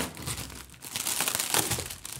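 Continuous crinkling and crackling of plastic and foam packaging, close and fairly loud, with irregular bursts of rustling and no talking.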